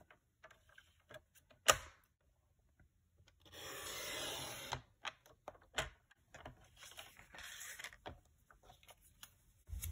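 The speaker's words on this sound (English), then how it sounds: "put this in my trimmer, and I'm using the measurements that are here on the right-hand side." A paper trimmer slicing cardstock: sharp taps and handling clicks, then a single rasping cut of about a second, followed by scattered light knocks and shuffles at close range.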